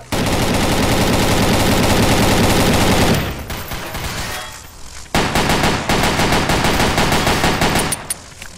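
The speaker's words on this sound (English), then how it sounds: "What the hell are you shooting at?" Sustained automatic gunfire during a survival round of Zombie Panic! Source on the Police State map. A loud, close machine-gun stream runs for about three seconds, then thinner bursts of shots resume after a short lull.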